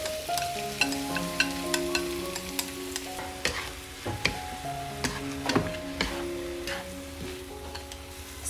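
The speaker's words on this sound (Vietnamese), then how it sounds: "mình sẽ cho cái phần thịt cua lúc nãy mình ướp vào mình xào ha các bạn." Marinated crab meat stir-fried with golden shallots in a pan: steady sizzling with repeated scraping and tapping of a spatula against the pan, close and clear, no talk.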